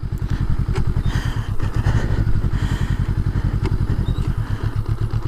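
Honda Rebel 500 motorcycle engine running close by on a gravel road while gears are shifted, a steady low, rapid thumping pulse that stays loud throughout.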